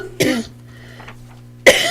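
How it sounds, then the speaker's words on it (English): During a township special meeting, a person coughs twice, close and loud: one harsh cough, a brief pause with a faint throat sound, then a second cough. "I don't know if I'm gonna have a coughing fit."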